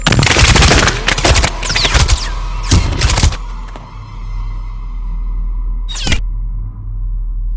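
Gunfire from the French action film Nid de Guêpes: loud, close bursts of rapid automatic shots over the first three seconds, then a lingering rumble and one more short burst near the end.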